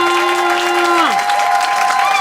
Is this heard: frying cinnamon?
no